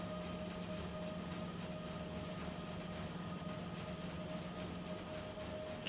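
A train running on steel tracks, a steady rumbling roll with a faint hum, continuous and moderately close, ending in a short louder knock.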